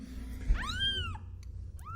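A young female kitten gives two loud, rising-and-falling meows up close, the second one short, over a low background hum.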